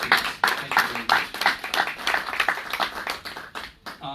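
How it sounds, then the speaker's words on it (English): An audience at a press conference applauds for the host city, Newark, with dense, continuous clapping from many hands, fairly close and steady for several seconds before thinning out at the end. "I want to give Newark a big round of applause for hosting this event"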